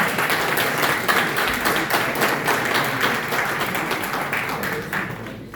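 An audience at an awards ceremony breaks into sustained applause, dense many-handed clapping that fills the hall and holds steady before slowly tapering near the end.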